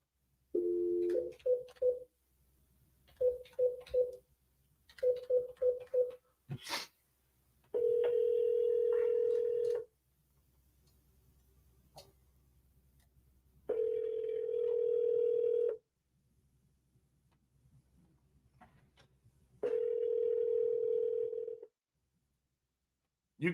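A phone call ringing out: several bursts of touch-tone dialing, then three long repeated ring tones separated by quiet gaps, clear and close over faint background hum.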